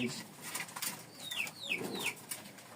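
A cream-coloured domestic pigeon with clipped, regrowing wings gives soft, close cooing calls among faint rustling and background noise.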